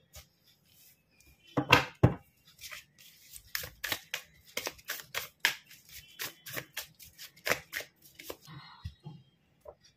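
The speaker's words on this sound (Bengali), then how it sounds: "আরও কার্ড সাফল করব" Tarot cards being shuffled by hand, a run of quick, crisp riffling bursts in an irregular rhythm, close and fairly quiet in an otherwise still room.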